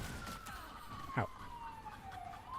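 An ambulance siren wails faintly in the distance as it passes, a steady falling tone under low background sound, with no talk.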